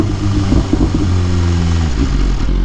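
A motorcycle engine runs steadily up close while the rider parks, its low rumble shifting pitch as the revs ease and settle. No one speaks over it.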